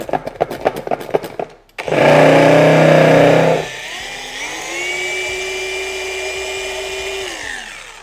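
A car paint polisher fitted with a red waffle finishing pad whirs up loudly after some clicks and handling, then settles to a steadier, lower mechanical whine that keeps running close by.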